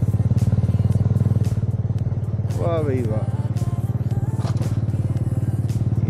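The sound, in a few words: motorcycle riding downhill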